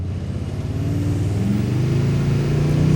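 A Toyota Tundra TRD Pro engine in sport mode builds steadily as the truck accelerates, a loud continuous low drone heard from inside the cabin that rises in pitch and grows slightly louder.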